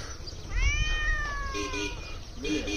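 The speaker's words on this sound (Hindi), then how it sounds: "ये म्याऊं बोल रही है।" A cat meows in a village setting, a clear drawn-out call followed by a shorter second meow, close and loud over a low rumble of background noise.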